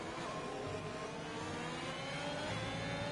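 Race car engine in Live for Speed during an overtake at the Bahrain Grand Prix circuit, a continuous fairly quiet buzzing drone at high revs with faint shifting pitch, no voices.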